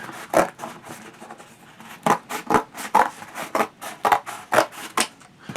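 Scissors snip through a cardboard box flap in a series of short, crisp cuts, about a dozen irregular bursts close by, with no one talking.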